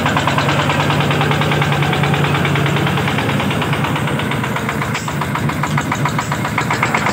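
A 4x4 vehicle's engine runs steadily at idle in a garage, a loud, constant rumble with a rhythmic knocking pulse throughout, close and uninterrupted.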